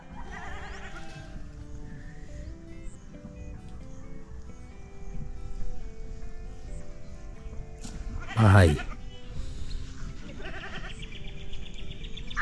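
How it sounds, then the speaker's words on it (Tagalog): A goat bleats outdoors near the sea, with a short call rising over steady wind and ambient noise and a voice briefly heard. "Kambing."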